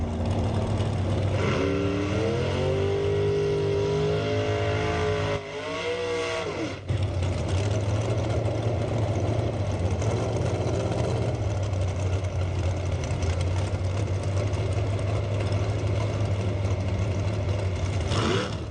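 A dragster sits at a drag strip during bracket racing eliminations, its engine idling with a loud, steady mechanical roar and a stretch of rising and falling revs near the start, close and continuous throughout.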